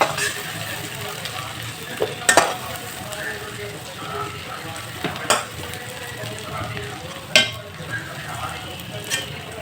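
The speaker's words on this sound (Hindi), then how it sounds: "अब जो तेल बाची वही में हम थोड़ा सा और तेल डाल के मसाला भून लिए।" Masala spices frying in oil in a pan for a Bihari-style suran (yam) curry, a close, continuous sizzle broken by a few sharp clinks and scrapes of a utensil, with a voice talking over it.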